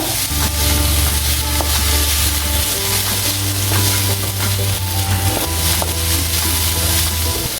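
A strong, constant hiss of onions frying for kachori filling, with light stirring scrapes now and then, sits beneath background music throughout.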